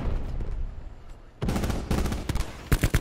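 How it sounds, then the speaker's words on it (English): Pistol and other gunfire in a Call of Duty Black Ops 4 multiplayer match, a burst of sharp close shots after a quieter stretch, with several rapid cracks clustered near the end. "You just killed me with a pistol?"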